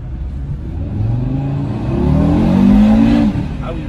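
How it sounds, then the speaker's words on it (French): An Audi RS Q3 in RS mode revs up from inside the cabin, its exhaust note rising in pitch and loudness over a steady low drone before easing off. "j'entends que l'échappement est un petit peu différent."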